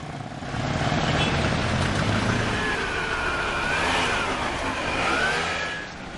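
Motorcycles and cars crawling through a traffic jam, a steady engine drone that swells and eases as vehicles pass nearby, with a faint rising whine of a motorbike accelerating.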